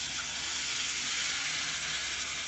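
A steady, close sizzle of frying in a pan while cooking Andhra-style fish curry, holding even and loud for the whole stretch, with no voices.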